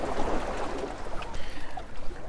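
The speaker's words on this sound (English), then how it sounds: "It's kind of loud, the waves are crashing in" Loud, continuous wash of ocean waves breaking and surging on the shore near the water, a steady broadband roar with rolling swells.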